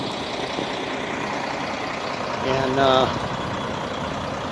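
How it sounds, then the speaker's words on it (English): A full tractor trailer truck's engine idles as a steady, close low rumble throughout, under brief speech, with a slightly louder surge near the middle. "this is your full tractor trailer."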